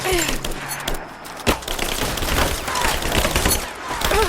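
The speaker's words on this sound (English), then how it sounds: "Keep firing! Back me up! Laying down covering fire!" A firefight in the video game Rise of the Tomb Raider crackles with rapid, dense bursts of gunfire mixed with impacts and shouted combat voices, loud and continuous throughout.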